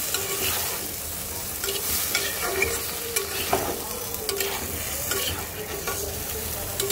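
Spiced potato and eggplant curry stirred in a hot pan with a little water, a steady wet sizzle broken by repeated scraping strokes of the spoon, close and continuous.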